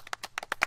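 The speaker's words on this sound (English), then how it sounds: "Give him a round of applause, fellas." A few hand claps from a small group of men at an outdoor house gathering for an R&B, swamp and blues music event, faint and sparse with irregular spacing.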